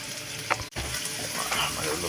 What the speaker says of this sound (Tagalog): Ilagay na natin yung bawang sibuyas natin.